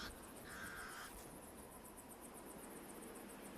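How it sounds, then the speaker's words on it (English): Pied crows give a short, faint alarm call in the desert, nearly buried under a constant pulsing chorus of insects. "The pied crows sound the alarm again."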